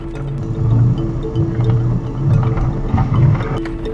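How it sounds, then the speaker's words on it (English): A 4WD engine holds back the vehicle in low-range first gear while crawling down a steep High Country track, a steady low rumbling drone with slight rhythmic pulsing, close and fairly loud, alone without talk. "using the engine compression and the gears to slow me down."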